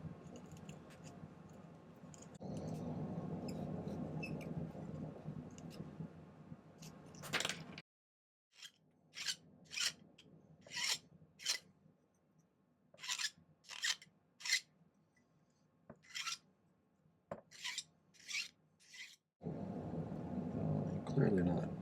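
Metal being trimmed and filed while a silver locket set with red creek jasper is made, with bursts of rasping followed by a run of short, sharp scraping strokes, close and fairly quiet.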